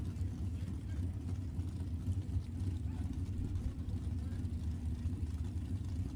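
Drag racing cars, a 1969 Chevelle and a 1972 Pinto, idle at Sacramento Raceway with a low, steady engine rumble heard at a distance, with faint talk over it.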